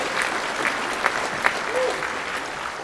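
Applause rises from an evening audience at a Wellington civic event with Palmerston North Māori Reserves speakers, a steady wash of clapping with a few sharper claps standing out, moderate and sustained throughout.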